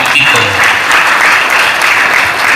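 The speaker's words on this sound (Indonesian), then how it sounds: "Kita kasih tepuk tangan dulu untuk Pak Tito." A large crowd at a Waisak celebration in a hotel hall applauds an MC in loud, dense, continuous clapping that carries right through without pause.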